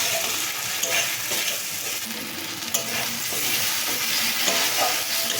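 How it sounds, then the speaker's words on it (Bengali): Chopped tomatoes fry in spiced oil for a giant prawn malai curry: a dense, continuous sizzle up close, broken by scraping stirs at irregular intervals, with no voices. "টমেটো কুচি দিয়েও টমেটোটা ভালো করে ভেজে নেব এবং কষিয়ে ভালো করে টমেটোটাও গলে যাবে"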